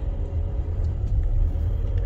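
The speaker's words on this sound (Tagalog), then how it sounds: "Pero ang daming sasakyan." Cars driving past on a busy subdivision road, a steady low rumble of traffic noise close by and continuous, with no talking.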